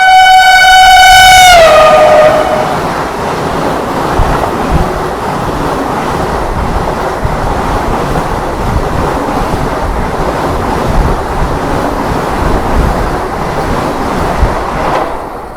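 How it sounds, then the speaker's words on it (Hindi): A Vande Bharat train sounds a loud multi-tone horn as it overtakes, then roars past close by in a dense, continuous rush of wheels and wind that stays heavy to the end. "वंदे भारत जो है हमें ओवरटेक करते हुए"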